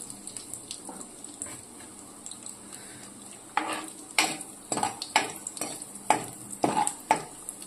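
Cashews fry on a low flame for semiya kesari, with a faint sizzle under sharp, irregular scrapes and clinks of a spoon against the pan that grow louder and more frequent in the second half.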